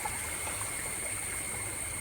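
A forest stream flows where it splits into a small side channel, giving a faint, even rush of water with a constant thin high whine in the background.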